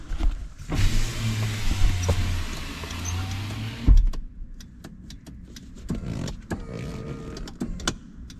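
Fuel system of a car priming before start-up: a steady electric whir hums for about three seconds, then cuts off, followed by scattered clicks and light clatter nearby, with no talking.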